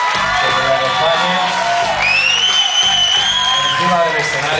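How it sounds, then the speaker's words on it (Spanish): A concert crowd at an orchestra show whoops and cheers loudly throughout, with sustained shouting and some clapping blended under the whistles and yells. "Me gustaría que le dierais un fuerte aplauso a todos estos profesionales"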